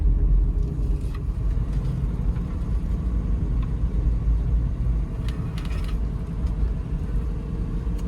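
A 1964 Oldsmobile Jetfire on the road, a steady low engine rumble and road noise, with faint mechanical clicks now and then.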